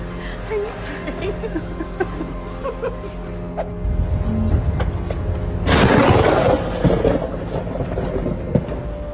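Thunder from a storm at sea, with a deep boom swelling into a broad rumble midway through over a steady wash of wind and water noise, fairly loud and close.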